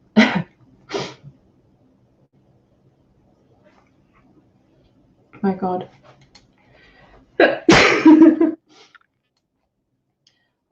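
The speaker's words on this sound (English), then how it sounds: "Oh God, I need to sneeze." Two quick sneeze-like bursts at the start, then a few muffled sounds and a louder sneeze later, with a brief spoken exclamation in between.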